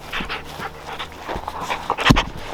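A dog pants close by in quick breathy rhythm and whimpers now and then, with some shuffling and a sharper yelp-like sound near the end.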